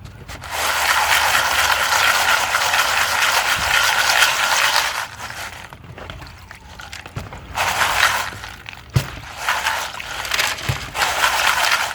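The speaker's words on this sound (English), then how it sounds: "we'll pour off some of our dirty water to get it started here" Dirty water poured off a pan of Goldbay paydirt during gold panning, a loud steady sloshing rush that pauses briefly, then returns in a few more pours with small clinks and knocks.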